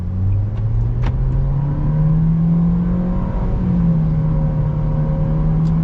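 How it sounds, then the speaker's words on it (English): A 2021 Nissan Kicks SR accelerating from inside the cabin, its engine drone rising slowly and steadily in pitch with a brief dip like a gear shift, loud and continuous over road noise, with no talking. "So we're gonna start things off with an acceleration."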